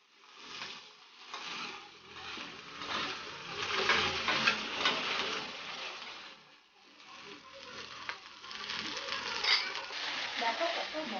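Okra frying in a pan with panch phoron, a continuous close sizzle and crackle that swells and dips as it is stirred, with occasional scraping of the utensil.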